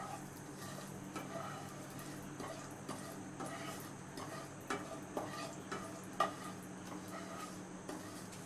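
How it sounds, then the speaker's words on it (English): Masala sausage frying in mustard oil in a home kitchen pan, with a steady soft sizzle, light stirring scrapes and occasional utensil clicks, moderately near and without talk. "We'll just let it fry a little."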